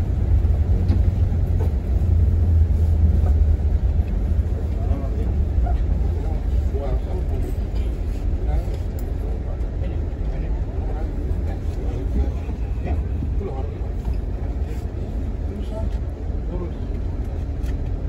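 Heavy vehicles, buses and trucks, idle in a queue for a ferry crossing in Indonesia, a steady low rumble of engines filling the scene with people talking over it throughout.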